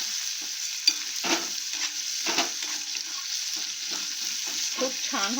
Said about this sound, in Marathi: फोडणी एकदम खमंग झाली पाहिजे